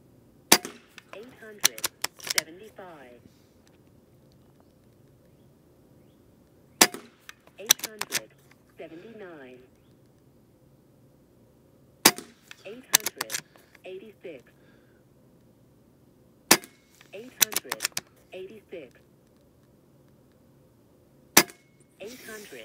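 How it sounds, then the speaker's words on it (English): Gamo Arrow air rifle fired at a 20-yard range, giving five sharp, loud pellet shots spaced several seconds apart, each followed by a brief clatter, with someone talking between shots. "Okay, I'm gonna go for top left. And again, I'm gonna do five shots."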